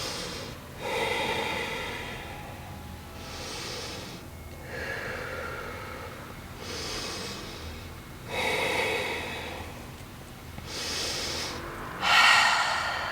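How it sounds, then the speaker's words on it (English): Deep slow breathing comes from someone holding a yoga forward fold, with about five audible breaths spaced a couple of seconds apart, each a soft airy inhale or exhale heard close up in a quiet room. "Taking 5 rounds of breath right here."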